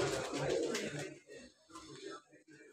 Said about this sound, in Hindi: एक और बड़ा कबूतर, एंटिक पीस है बिल्कुल, बहुत अच्छी क्वालिटी का कबूतर है